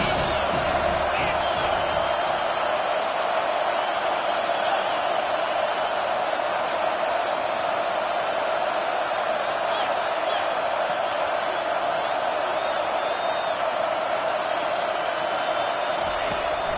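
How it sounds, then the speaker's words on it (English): Steady roar of a stadium crowd in the NCAA 25 college football video game, a dense, unbroken wash of noise on third and long that fills the whole stretch. "Here comes the crowd trying to make it tough on 3rd and long."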